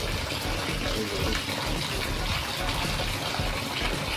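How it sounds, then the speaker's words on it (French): Rice being washed and rinsed under running water from a tap in a home kitchen, a steady loud rush of water with splashing throughout, no pauses. "Pendant ce temps, nous allons laver notre riz."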